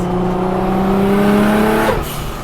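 An 800hp Nissan R34 GTR race car with an HKS RB28 engine and sequential gearbox drives hard on the street, its engine note climbing loudly under acceleration before a sharp gear change drops the pitch.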